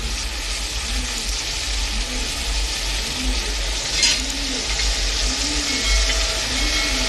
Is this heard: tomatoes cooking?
yes